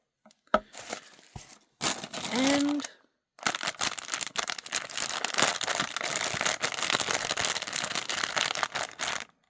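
Crisp crinkling and rustling of plastic bag stuffing pulled from the toes of new white leather boots out of a shoe box, coming in bursts separated by pauses, loud and close, with a brief word spoken between bursts.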